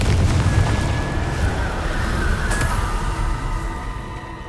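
A Confringo fire spell bursts in the video game Hogwarts Legacy, a loud, sustained rumbling boom with crackling blast noise that swells early and slowly decays over several seconds, with a thin tonal ring running through it.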